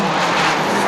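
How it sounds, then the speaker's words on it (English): A Subaru rally car races flat out at up to 130 mph over saturated roads on a stage of the Galway International Rally, a loud, steady roar with broadband spray noise. "At times, the Subaru is touching 130 miles an hour on the saturated roads"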